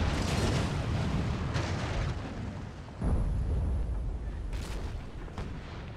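Artillery and musket fire in the Napoleonic battle game Napoleon: Total War, with heavy booming blasts around the start, middle and later on, each followed by rumbling decay over a dense ongoing battle din.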